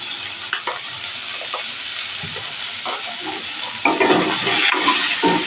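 Vegetables fry with turmeric and salt for a fish dish, a continuous hissing sizzle broken by occasional scrapes, swelling noticeably louder and busier in the last couple of seconds.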